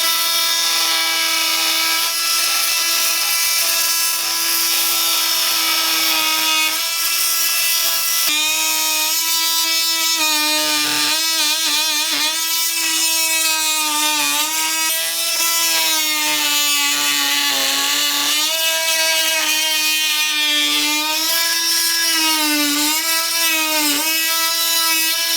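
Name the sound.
Milwaukee M12 Fuel oscillating multi tool cutting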